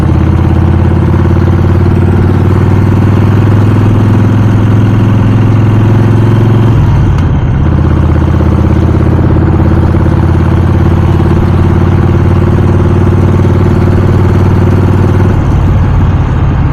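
A Harley-Davidson motorcycle engine rumbles loud and close on a relaxed ride, a steady deep throb that dips briefly twice as the throttle eases, with no talk over it.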